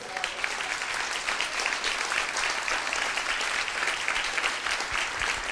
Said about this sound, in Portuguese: Você pode glorificar e aplaudir o Senhor Jesus?